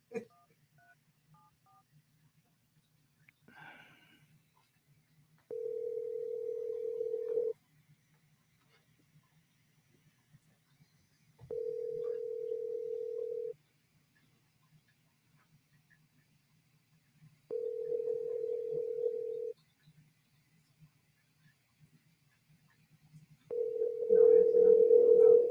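On a phone, a brief burst of touch-tone dialing is followed by a regular ringback tone sounding in four evenly spaced two-second pulses, clear and fairly loud against quiet background.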